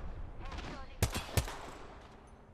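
Gunfire from the video game Apex Legends: two sharp, loud shots about a third of a second apart, cutting through a softer continuous game background.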